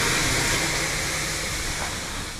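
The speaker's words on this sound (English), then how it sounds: "The traditional Finnish way, where you dump the water onto the rock." Water is dumped onto hot rocks in a traditional Finnish sauna in an ice hotel, giving a loud, continuous broadband hiss of steam that tapers slightly over two and a half seconds.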